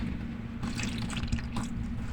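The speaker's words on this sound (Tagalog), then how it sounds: "Maglalagay tayo ng tubig guys." Water is poured into all-purpose flour for puto pao dough, a short, close trickling and splashing sound over a quiet background.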